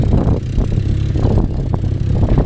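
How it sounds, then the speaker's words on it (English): A Honda D16Z6 engine idles just after its first start, a close, steady low rumble with a slightly uneven pulse. "here she is, Z6, idling nice"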